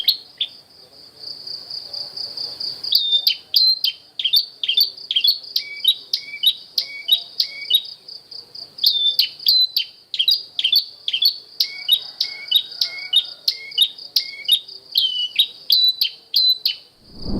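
A wild bush lark (branjangan) near an aviary gives repeated sharp, high chirping phrases in quick, irregular bursts, close and clear, over a faint continuous insect-like trill and a quiet background.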